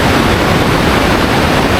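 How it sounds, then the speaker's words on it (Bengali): Beas river running fast and turbulent near Manali, a steady, loud broadband rush of churning water filling the whole moment without pause. "নদীটা বিয়াস নদী বয়ে চলেছে নিজের মতো। খরস্রোতা, খুবই খরস্রোতা নদী এটা।"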